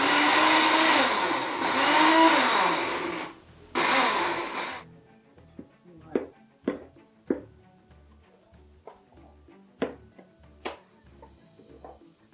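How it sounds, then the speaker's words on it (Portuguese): An electric blender whirs loudly for a few seconds while chopping onion and garlic to season acarajé batter, then stops, followed by scattered knocks and clunks in a quiet kitchen. "Aí é batido a cebola e o alho para temperar a massa"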